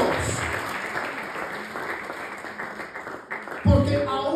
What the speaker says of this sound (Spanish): denle palmas fuertes al Señor por eso